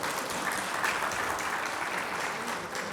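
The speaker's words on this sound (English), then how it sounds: "Let us have a big round of applause for our speaker." Steady applause from a seminar audience fills the room, dense and continuous clapping at close range for a speaker, with no talking over it.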